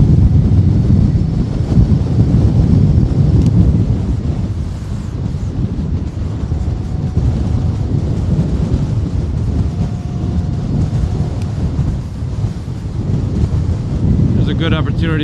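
Strong wind buffets the microphone of a moving e-bike with a constant loud low roar and rumble, and a voice is partly audible under the gusts.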